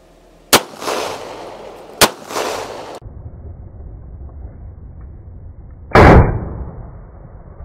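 An Arsenal Strike One pistol fires a few sharp, loud reports, each cracking out and then ringing briefly. Gaps of over a second separate them, with a hollow mechanical clatter near the end.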